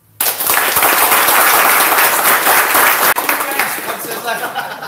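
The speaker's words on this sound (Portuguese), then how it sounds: "eu gostaria que todos nós recebêssemos o professor Alexandre com uma salva de palmas" An audience at a Brazilian jiu-jitsu talk gives sustained applause for a professor, dense steady clapping filling the room with a slight dip near the end as it begins to thin.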